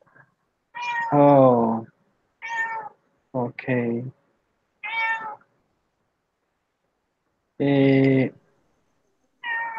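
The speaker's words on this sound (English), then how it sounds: "The cat has been coming to interrupt my class, like saying, "Hey, I'm hungry" A hungry house cat meows over and over, loud and close, in several separate calls with short gaps between them, and a person speaks briefly in between.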